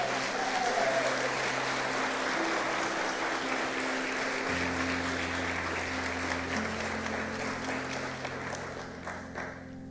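Congregation applause in a church service, a steady wash of many hands clapping at a distance, faint and continuous with a soft low musical hum underneath, fading slightly at the end.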